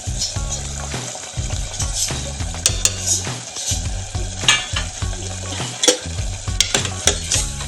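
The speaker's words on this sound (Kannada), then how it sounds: "ಇದು ಸ್ವಲ್ಪ ಎಣ್ಣೆ ಬಿಡೋವರೆಗೂ ಹುರ್ಕೊಬೇಕು" Masala frying in oil for potato and pea curry, a loud crackling sizzle with frequent metallic spoon scrapes and knocks against the pan in an uneven rhythm, close up.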